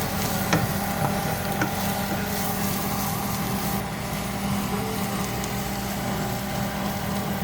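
Ginger garlic paste sizzles steadily in hot oil in a pan as chicken masala is stirred in for chicken biryani, a continuous close frying hiss with faint scraping of the spoon.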